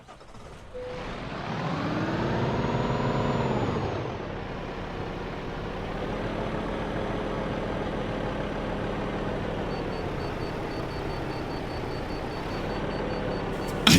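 Truck in Euro Truck Simulator 2 parked on a hill, a sharp air hiss of the parking brake engaging over the idling diesel engine, which then settles into a steady low rumble.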